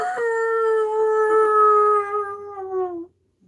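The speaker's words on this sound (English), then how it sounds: "the big wolf lift his nose till it pointed straight at the sky, and his mouth opened and a long howl rose towards the moon" A single long, steady wolf howl rises and holds for about three seconds before fading out, clear and close with no talk over it.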